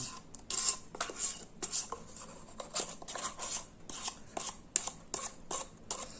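A lemon powder and oil soap mixture is stirred in a container, making a quick series of scraping, clinking strokes against its sides, close and fairly quiet, with no talk.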